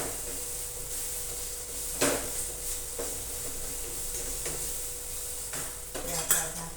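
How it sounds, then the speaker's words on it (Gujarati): Turmeric, chili powder and coriander powder stirred into a home-cooked dish in a pan, with soft scraping and a few sharp clinks of a spoon against the pan over a faint steady sizzle. "હળદર, મરચાં પાવડર, ધાણા પાવડર બરાબર મિક્સ કરી લઈશું."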